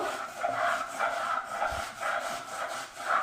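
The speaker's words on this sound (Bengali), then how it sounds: "আতলার মধ্যে এভাবে ঘষে নেবো এভাবে ঘষে পরিষ্কার করে নেবো" A sheat fish is rubbed with rice husk powder in a clay bowl, giving soft, repeated gritty scrubbing strokes at a steady rhythm, close and fairly quiet.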